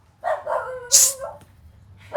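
A dog barks and yips a few times close by, a short sharp bark standing out between whimpering, higher-pitched vocal sounds.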